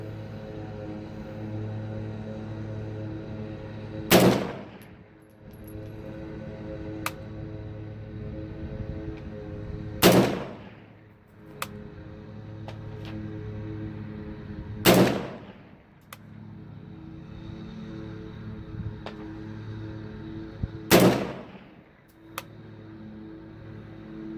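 Rifle shots fired at targets outdoors: four sharp, loud reports spaced several seconds apart, each with a short decaying tail over a steady low background hum, no talking.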